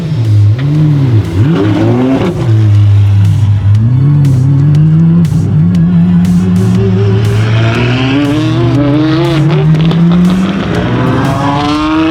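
A loud, deep Apollo IE hypercar engine rumbles and revs repeatedly, its pitch swooping up and down before climbing into a sustained roar, very close.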